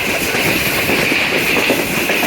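A Green Line passenger train rolls along its rails through hilly Potohar country, a steady, loud rumble with a continuous clickety-clack of wheels and no pauses.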